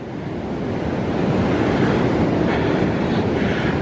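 Surf rolls and breaks steadily onto the beach at Nags Head, a continuous loud wash of ocean waves with wind rumbling across the microphone and no voices.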